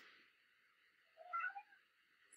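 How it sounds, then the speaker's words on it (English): A pet cat meows once in the background, a faint, distant cry under quiet room hiss, with no talk over it. "You can hear my cat in the background."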